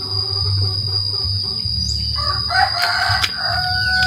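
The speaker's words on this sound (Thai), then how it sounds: "โอ้เสียงไก่ฮอน" A rooster crows loudly over a steady background of chirping insects, its call rising partway through.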